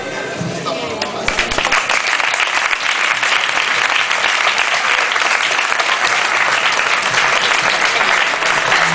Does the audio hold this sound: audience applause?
yes